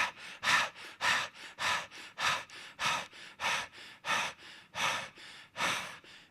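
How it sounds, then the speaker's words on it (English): Heavy, labored breathing in quick repeated gasps, about a dozen inhale-exhale cycles at a steady pace, close and clear, as when struggling for air at high altitude on Everest. "On Everest, you might take 10 breaths."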